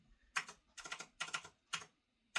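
Keyboard typing in bursts of rapid clicks, four clustered runs with short pauses between, close and fairly quiet, with no voices.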